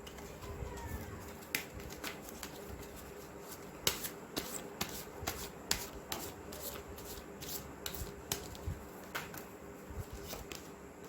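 Tarot cards being shuffled and drawn from a deck, a run of soft, sharp slaps and flicks at an irregular pace over a steady low room hum, close and fairly quiet, with no talk.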